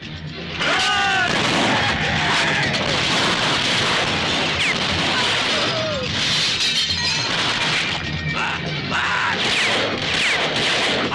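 Dense, loud action movie gunfire with crashing and shattering impacts, a continuous chaotic barrage filling the whole scene.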